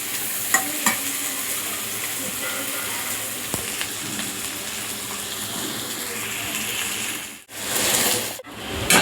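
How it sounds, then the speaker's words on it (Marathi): Fried okra goes into a hot pan for Maharashtrian bhendi bhaji, setting off a steady close sizzle with scraping stirs, then two brief dips where the frying noise drops out before it returns. "त्यानंतर ही भेंडी आपण जी फ्राय करून घेतली होती ती टाकत आहोत"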